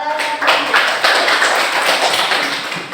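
Classroom applause from students during a teaching practice session, a short burst of dense clapping that stays loud throughout and then tails off, with faint voices mixed in.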